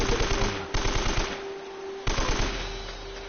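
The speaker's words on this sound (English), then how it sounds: "Just trying to pop off as many shots as early as possible." Rapid automatic gunfire in Uncharted: Drake's Fortune rattles in three loud bursts, each a quick run of shots, with no talk over it.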